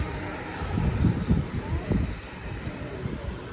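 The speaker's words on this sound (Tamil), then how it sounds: "ஃப்ளைட்டுக்கு பாய்." An airplane passes overhead near the Pallavaram Friday Market, producing a low, steady engine rumble that swells slightly in the middle and then holds, with no talking.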